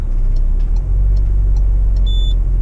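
A Peugeot Partner diesel pulls away with its parking brake still engaged, the engine droning loud and steady inside the cab, joined near the end by a short high warning beep.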